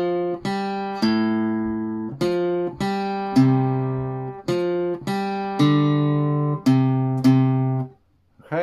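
A guitar plays the verse riff of a song in plucked notes in a steady rhythm, each note ringing and decaying before the next, played alone with a brief pause near the end.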